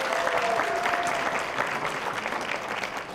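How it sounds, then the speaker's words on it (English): Sustained applause from a studio audience greeting a high school contestant being introduced on a Who Wants to Be a Millionaire quiz show, steady broadband clapping throughout with a brief tonal musical note early on. "you can step forward and then greet the tumultuous applause"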